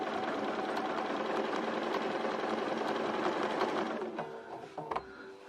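Sewing machine running a fine-thread straight stitch slowly down a quilt seam, a steady close mechanical whirring that slows and stops near the end with a few clicks.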